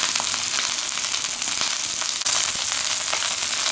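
A stuffed beef roll searing in a hot pan, a loud continuous sizzle and crackle with one brief dip near the middle.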